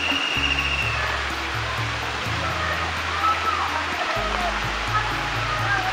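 Abundant water flows through a village stream under trees, a loud, continuous close rushing and splashing wash with a low rumbling hum mixed in, steady throughout.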